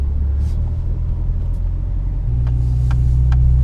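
A Subaru turbo engine fitted with a lazy VF39 turbo, tuned to around 8 psi, holds partial throttle while building boost: a loud, steady low rumble with a few faint ticks over the top and no voices.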